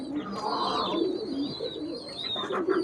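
Racing pigeons kept for breeding coo softly and repeatedly at close range, with faint chirps and a low background hum.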